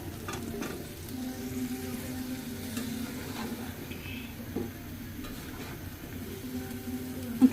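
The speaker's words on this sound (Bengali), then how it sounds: "বেগুন আর ইয়েটা দিয়ে দিই আলুটা সাজনাগুলোও দিয়ে দিলাম" Eggplant, potato and drumsticks frying in a spiced pan, with a steady close sizzle and the occasional scrape of a stirring spoon, ending in one louder knock, and no talking.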